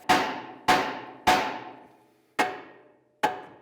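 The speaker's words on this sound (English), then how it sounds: "we'll grab a hammer, hit it on the knuckle side" Five sharp metallic hammer blows on a car's steering knuckle to free the outer tie rod during CV axle replacement, spaced unevenly and each ringing out briefly before the next strike, close and alone.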